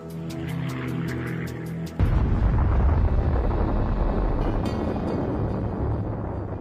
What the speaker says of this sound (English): Lester Tenney sees the explosion